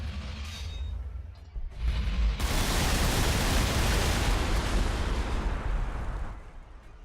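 Gunfire in the Warhammer 40,000: Gladius strategy game, rendered as a heavy rumbling barrage that swells into a sustained roar of blasts and then fades, with no voices.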